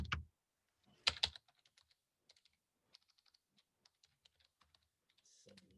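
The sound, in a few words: typing on a computer keyboard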